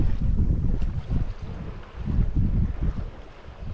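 A sailboat glides along at about four knots, with gusty wind buffeting the microphone and low surging water and hull wash rising and falling in waves, no talk.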